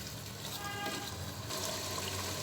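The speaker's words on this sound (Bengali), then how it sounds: "এবার সামান্য পরিমাণ পানি অ্যাড করে দিচ্ছি" Water poured into a pot of fried potatoes gives a steady trickling, splashing pour, close and continuous, with a brief shift partway through.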